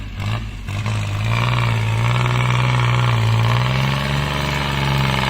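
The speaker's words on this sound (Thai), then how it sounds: "แรงครับตัวนี้นะครับ 30 แรงม้าครับโควินขับเคลื่อน4ล้อนะครับ เครื่องยนต์เป็น3สูบนะครับไดเรกอินเจคชั่นครับ" A used Kubota 30 hp four-wheel-drive tractor with a three-cylinder direct-injection diesel engine running steadily while pushing, its close, loud drone swelling slightly as it works under load.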